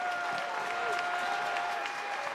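Baseball crowd at a college game between Texas A&M and Florida applauding steadily, a dense wash of clapping and cheering from the stands with a faint broadcast hum beneath.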